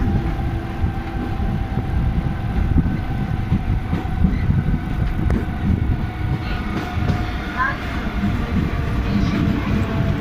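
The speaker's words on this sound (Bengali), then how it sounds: "আলিপুর স্টেশনে ঢুকছে আমাদের ট্রেন" An express train rolls into Alipur station with a continuous loud low rumble and rattling carriages, steady throughout with faint squeals and clacks on top.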